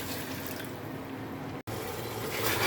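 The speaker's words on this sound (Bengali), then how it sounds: "আর এখন দিয়ে দিচ্ছি হচ্ছে একটু পানি" Water is poured into a pan of spices that have been frying down for vegetable khichuri. It gives a steady, close wash of splashing and sizzling, broken by one very brief gap.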